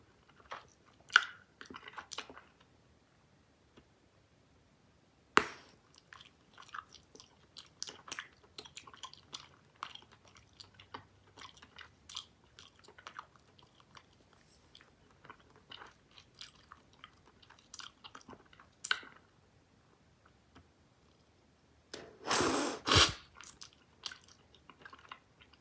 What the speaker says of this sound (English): there's not enough gum in my mouth to blow a bigger bubble